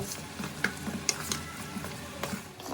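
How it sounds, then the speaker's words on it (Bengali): A spoon scrapes and clicks through dal, grated papaya, spices, salt and sugar frying in a pan, soft sizzling underneath with scattered taps from the stirring, close by and without talk. "এবার এগুলোকে আমি খুব ভালো করেই ডালের সঙ্গে মিশিয়ে নেব"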